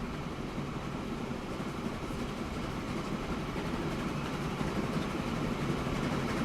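A train runs steadily through the Transport Fever game world, a continuous low rumble with dense broadband rail noise at an even, moderately loud level and no voices.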